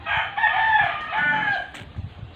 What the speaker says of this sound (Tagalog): Yung may-ari ng manok nagtataka bakit daw nagpuputakan yung manok niya